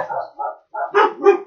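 Dogs bark in several quick bursts close by, sharp woofs and yips with short gaps between them, reacting to a truck passing down the road outside.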